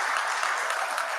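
An audience applauding at a memorial tribute event, dense steady clapping close and uninterrupted throughout the short burst.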